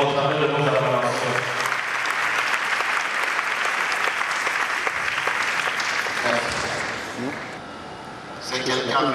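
Church congregation clapping and acclaiming the Lord during a service honouring Reverend Roger Mupati, loud sustained applause with voices mixed in, fading briefly near the end before swelling again.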